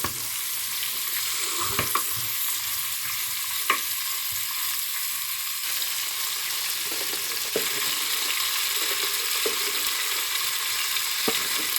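Large, lengthwise-sliced onions fry in a pan for tomato rice, an even, continuous sizzle with a few sharp clicks and scrapes from stirring scattered through it.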